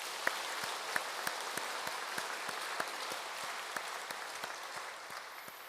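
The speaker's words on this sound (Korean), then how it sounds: "하나님께 영광의 박수를" Church congregation applauding during a Thanksgiving Sunday service, steady dense clapping filling the room with a few sharper individual claps standing out, continuous throughout.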